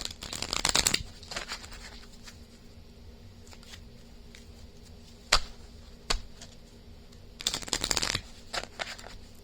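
A deck of cards riffle-shuffled twice for a tarot-style reading, each shuffle a quick crisp burst of fluttering cards, with soft taps and handling noises between them in a quiet room.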